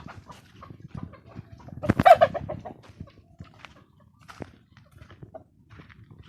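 Scattered chicken clucks and soft squawks nearby, with a louder burst of clucking in the middle and quieter pecking sounds around it.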